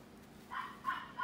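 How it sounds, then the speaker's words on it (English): Dogs bark in the background of an indoor craft session, three fairly faint yaps in quick succession over a low room hum, with no speech at that moment. "Sorry for the dogs barking."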